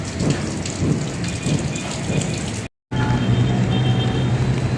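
Heavy rain pours steadily on an outdoor construction site where workers keep going. The downpour is loud and constant, broken by a brief silent cut, with a low rumble underneath.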